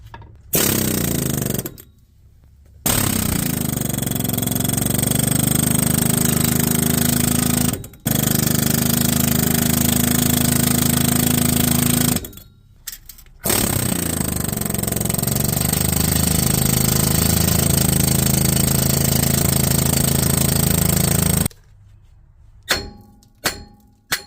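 An air hammer pounding on a Subaru Crosstrek wheel bearing in long, loud sustained bursts with brief breaks between them, then a few short taps at the end.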